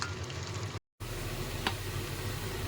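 Chicken pieces sizzling in hot oil while being sautéed for a Bengali kosha chicken curry, a steady close frying hiss broken by one brief gap and a faint stir near the end.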